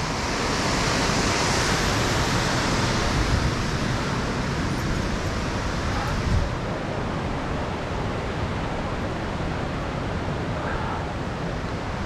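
The river at Ohiopyle runs high at about 4.6 feet, a loud, dense and unbroken rushing roar of moving water that fills the whole stretch.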